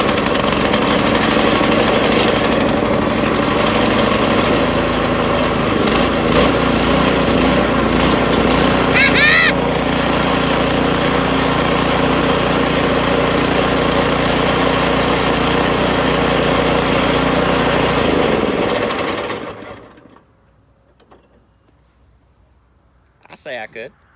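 A small engine, started by hand while stuck on a river, runs loudly and steadily with a rough, rattling drone before cutting off abruptly, leaving near silence with brief talk after.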